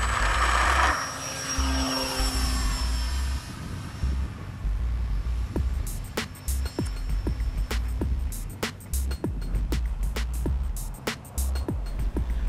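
An RC model plane, the Switch, flying overhead at a flying field, its propeller drone rising and fading as it passes, with sharp clicks and taps punctuating the second half.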